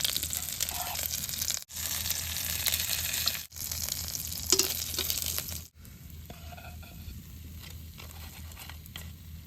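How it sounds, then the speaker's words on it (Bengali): Fish fries in a pan, giving a steady, faint, close sizzle with soft crackling and brief stirring breaks. "মাছটি দেন কি সুন্দর ভাজা হয়েছে"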